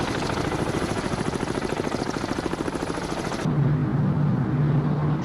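A helicopter in the Cold Waters submarine game makes a rapid, steady rotor chop that drowns out everything else. It then cuts to a muffled, low humming drone.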